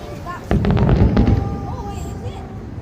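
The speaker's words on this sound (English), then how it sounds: "These are the ending fireworks." Fireworks finale at Dubai Festival City on Christmas Day, with a burst of loud booms and crackling pops from about half a second in, then a rumbling fade, while voices exclaim faintly over it.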